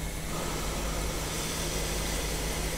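Diesel locomotive engine idling steadily in the Trainz12 train simulator, a constant broadband rumble with a low steady hum, unchanging and continuous throughout.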